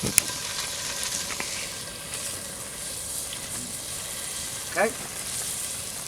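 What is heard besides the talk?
onion frying in a Dutch oven over open fire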